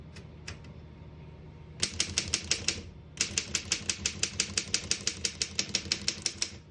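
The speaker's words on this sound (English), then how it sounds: "We're going to keep it on single and finish typing." A 1920 Underwood No.5 antique desktop typewriter being typed on, a short pause and then steady rapid key strikes, crisp sharp clacks in a fast even rhythm, close up and alone.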